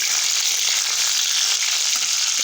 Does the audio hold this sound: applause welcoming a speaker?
no